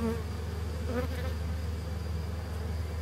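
Steady, dense buzzing of many honey bees from a small swarm around a hive close by, a continuous low drone with no voices.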